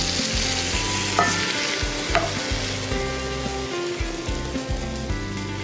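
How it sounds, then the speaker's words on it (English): Canned crushed tomatoes are stirred into a simmering cioppino pot, with a continuous close sizzle and repeated spoon scrapes and stirring strokes, and no talking. "Next, add 2 cans of crushed tomatoes."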